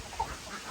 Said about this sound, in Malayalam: അമ്മക്കോഴീനെ നമ്മളിതാ രാവിലെ പുറത്തേക്ക് വിടും.